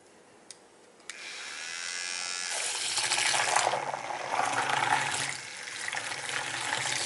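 A high electric whirring from a makeup brush cleaner starts after a couple of clicks, then grows into a steady hissing spray of splashing water, close and fairly loud.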